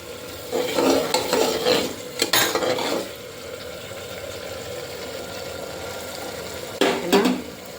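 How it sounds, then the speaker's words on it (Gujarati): Potatoes and masala are stirred in a pan for a Gujarati crispy potato snack, with loud close scraping and clattering utensil strokes over a soft sizzle, a pause, then another burst of stirring. "હવે આને એકવાર હલાવી"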